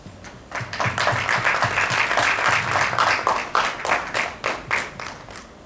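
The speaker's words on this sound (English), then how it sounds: "So please give a big round of an applause to felicitate today's speaker, Dr. Kiran Patil sir." Applause from the audience at a medical continuing-education session, rising quickly into sustained dense clapping that holds steady for several seconds before thinning toward the end.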